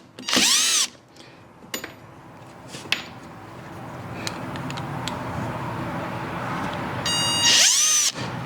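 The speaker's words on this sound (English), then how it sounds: "All right, so I'm just pre-drilling these screws." A power drill pre-drills holes for 3-inch screws while a goat hay rack is built, firing in two short, loud whirring bursts at the start and end with quieter clatter and handling noise between them.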